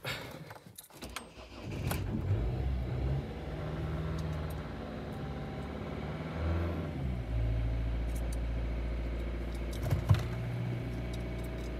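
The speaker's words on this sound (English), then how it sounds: "I'm going to press the accelerator down, keep the revs up" A Volvo C30 D2 1.6 diesel engine cranks and catches after a fuel filter change, then idles and revs up and down with a deep rumble, close by; a few faint clicks and rattles, no talking.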